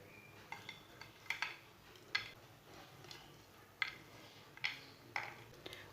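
Makhandi halwa being served from a pan onto a plate: faint, scattered metallic clinks and scrapes of a spoon against the pan and dish, separated by quiet pauses, with no speech.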